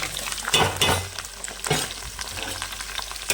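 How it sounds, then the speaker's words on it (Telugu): Onion pieces hit hot oil with green chillies and curry leaves, bursting into loud sizzling and then settling into a softer frying hiss broken by scraping stirs, close to the pan with no talk. "దాని తర్వాత ఉల్లిపాయ ముక్కలు వేసేస్తున్నాం"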